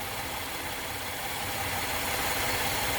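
A 2013 Chevrolet Impala engine idles in a steady, continuous low hum with a faint even vibration, heard close and alone.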